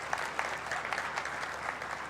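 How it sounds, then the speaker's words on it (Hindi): Audience applause welcoming a guest at a speech event in Nagpur, a steady broad clapping that holds evenly for a couple of seconds with no talk over it. "आप तालियां बजाकर इनका स्वागत करिए।"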